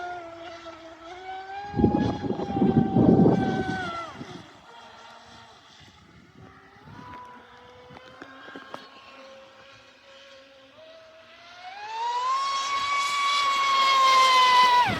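A Proboat Impulse 32 RC speedboat, modded for high-speed stability, runs on water with a high-pitched whining motor that rises and falls in pitch, fades to a faint distant buzz mid-run, then climbs loudly again as it speeds past.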